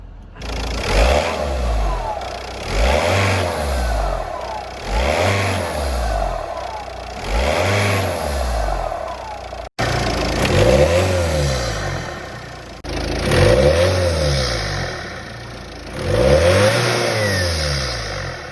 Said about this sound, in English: Oh yeah, that's a lot better.